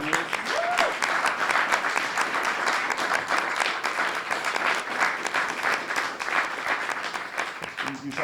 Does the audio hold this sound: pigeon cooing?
no